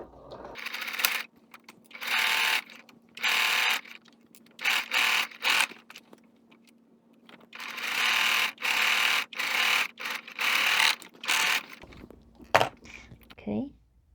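A sewing machine runs in repeated short bursts of rapid mechanical stitching a quarter-inch seam on a quilt block, with brief pauses between runs and a steady low hum underneath.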